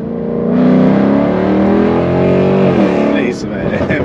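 A Mercedes-Benz C63 accelerates hard with a loud, rising engine roar heard from up close, building steadily before easing off near the end.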